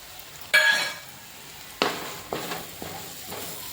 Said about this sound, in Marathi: आपले सुके मसाले पण आत्ता व्यवस्थित भाजले गेले आहेत